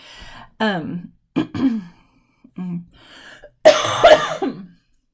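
A person coughs repeatedly in short harsh bursts with throat clearing and gasping breaths between, ending in a louder, rougher fit of coughing.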